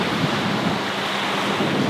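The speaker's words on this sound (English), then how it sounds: "wind's piped up quite a bit" Strong wind buffeting the microphone by the sea, with a dense roaring rush of air and surf noise, loud and steady throughout the short stretch with no voices.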